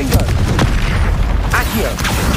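Spell-casting blasts and impacts in Hogwarts Legacy combat, dense booming bursts and crackling pops layered over continuous game music and effects, loud and busy throughout with a voice calling out spell names.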